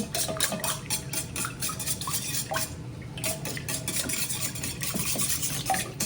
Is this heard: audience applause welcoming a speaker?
no